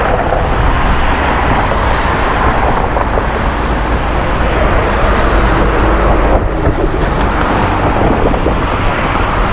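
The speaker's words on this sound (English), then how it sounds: "There's a heck of a lot more traffic coming along here now" Dense, loud roar of heavy road traffic on a Bangkok street, steady and continuous throughout, with wind buffeting the microphone and no voices.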